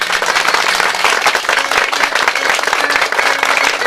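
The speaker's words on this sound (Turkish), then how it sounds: "Sayit Abiya'yı bir alkışlıyoruz kocaman" Loud, dense applause from a village gathering audience, many hands clapping close by in a steady, continuous burst with no speech over it.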